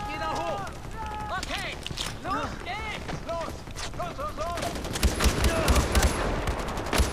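Gunfire during an attack on a Royal Army outpost in Far Cry 4, with bursts of automatic shots and rapid volleys under steady battle noise, while voices and tonal chirps overlap throughout.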